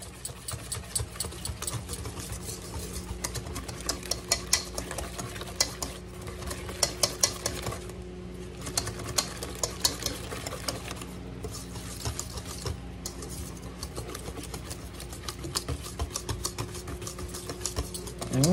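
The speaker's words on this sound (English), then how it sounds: "Now, take my whisk and do it good." A whisk beats banana bread batter in a bowl with rapid, continuous rhythmic clicking and scraping against the sides, steady and close with a faint mechanical hum beneath.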